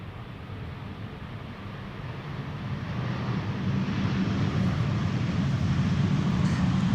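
A Vueling airliner arriving from Barcelona lands on runway 18R Polderbaan at Amsterdam Schiphol, its broad engine rumble growing steadily louder as it approaches.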